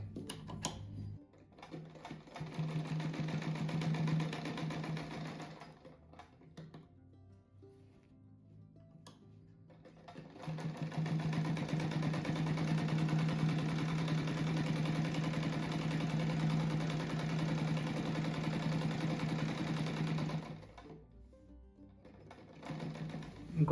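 A sewing machine stitches a patchwork rug in two long steady runs, a loud even mechanical hum broken by a quiet pause in the middle and a short lull near the end.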